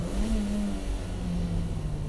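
A sports compact car accelerates hard at full throttle on a circuit, its mid-pitched engine note rising steadily in a loud, continuous drone heard close up with no talk.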